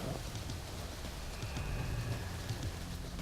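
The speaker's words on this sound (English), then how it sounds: "We got some rain coming down." Steady rain falls outdoors in woods along a tree line, a dense continuous patter with occasional louder drops, no voices, at an even moderate level throughout.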